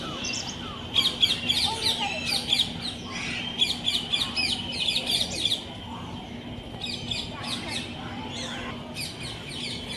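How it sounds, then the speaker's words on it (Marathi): Many birds chirp and call steadily amid the trees of an elevated forest walkway on Malabar Hill in Mumbai, with bursts of bright twittering over a low hum and soft background murmur. "मी तुम्हाला पक्ष्यांचे आवाज ऐकवते. किती सुंदर पक्ष्यांचे आवाज आहेत."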